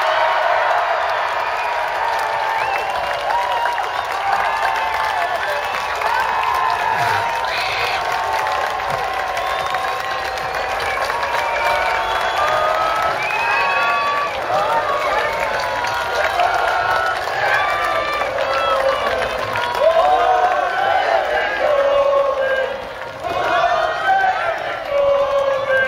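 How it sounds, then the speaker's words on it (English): A large outdoor crowd at the Durham Miners' Gala rally cheers and shouts continuously, a dense, loud roar with voices mixed throughout. "one big Durham Miners Gala cheer for the next Prime Minister of this country, Jeremy Corbyn."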